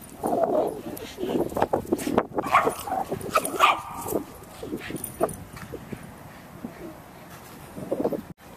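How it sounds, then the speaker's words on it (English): A Border Collie throws a tantrum while being put into a car near other dogs, barking and whimpering in a busy, irregular run of sharp yelps and whines throughout, with faint voices in the background. "I'm attempting to put Woody in the car because there's dogs and he's never been this close to dogs. He's giving us a major tantrum."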